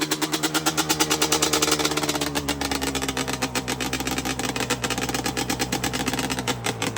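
A Yamaha YZ250 two-stroke dirt bike with aftermarket pipes and a new head runs on a cold day, its engine pulsing in a steady rapid rhythm, loud and close with no talk.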